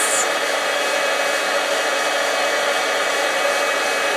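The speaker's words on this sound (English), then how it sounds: "you quickly turn off your embossing heat tool" An embossing heat tool blows a steady, loud, close whoosh without a break, like a hair dryer, as it melts embossing powder for wax-seal stamping.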